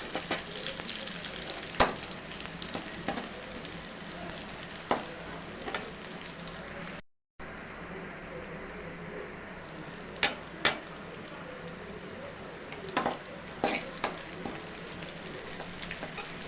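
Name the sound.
onions frying in pan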